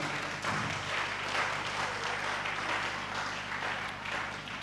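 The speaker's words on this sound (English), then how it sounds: "Just give him a clap now." A seminar audience at an entrepreneur event applauds steadily for nearly five seconds, a dense, even wash of many hands clapping at moderate distance with no talk over it.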